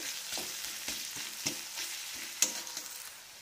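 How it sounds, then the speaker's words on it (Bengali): Chopped onion frying in white oil in a pan, a steady sizzle under repeated scraping stirs, with a few sharper clinks of the utensil against the pan, close and fairly quiet. "পেঁয়াজটা দিয়ে আমি ভালো করে নাড়বো।"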